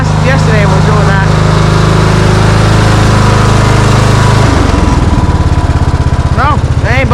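A custom-built snow lawnmower engine runs loud and close with a steady, throbbing drone that drops in pitch partway through as it settles lower, while a person talks over it.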